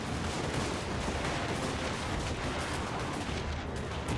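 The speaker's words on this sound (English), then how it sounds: "I'm going to shoot them as much as I can before the lines kind of engage" Musket volleys crackle through a video game battle between lines of troops, a dense continuous wash of overlapping gunfire and artillery-like booms filling the whole stretch at steady loudness.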